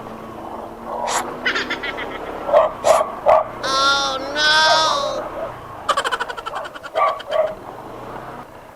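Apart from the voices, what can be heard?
dogs barking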